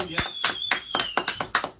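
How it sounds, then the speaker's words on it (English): A brief burst of scattered studio applause, a handful of claps in quick, uneven succession close by. "Round of applause, studio."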